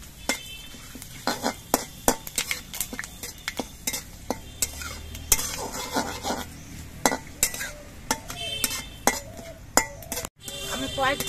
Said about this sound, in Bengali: এবার এই তেজপাতা আর মেথিটা একটু ভেজে নেব।